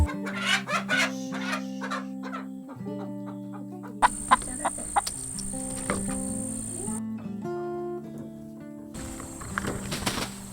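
Chickens cluck and squawk close by, mixed with tonal chirps, clattering thumps and a steady high whine in the background.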